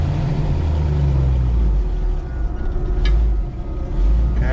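A 1956 Chevrolet Corvette pulls away in first gear with a loud, rumbling low engine note that rises and dips as it moves off close by. No voices are heard.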